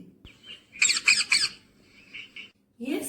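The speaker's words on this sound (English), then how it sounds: "It is parrot." Parrot squawking loudly and close, three harsh rapid calls in quick succession, then softer chirps and one more squawk at the end.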